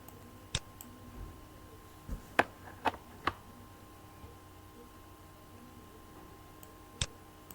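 Computer mouse clicks at a desk: about six sharp, faint clicks, sparse and irregular, with a small cluster near the middle, over quiet room hiss.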